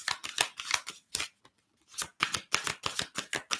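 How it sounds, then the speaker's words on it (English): Two decks of cards held together are shuffled in rapid riffling bursts, close and crisp, with a short pause before the fluttering resumes. "so it's quite hard to shuffle. I tend to hold them a bit too tight."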